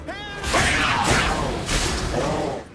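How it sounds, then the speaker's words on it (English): Oversized demon cats in a fantasy role-playing game snarl and growl at close range in loud, overlapping bursts, mixed with swishing combat noises and heavy thuds, with no voices. "What's with the overgrown demon cats?"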